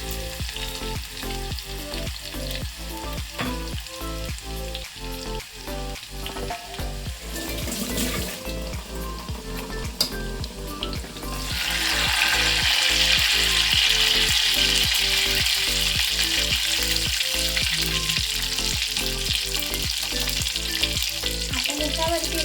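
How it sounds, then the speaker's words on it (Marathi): Garlic frying in hot oil for a Marathi-style vegetable curry tempering gives a continuous loud sizzle with stirring clinks, the crackle swelling sharply about halfway through; no speech. "आणि याच्यामध्ये आता लसूण टाकून घेऊया."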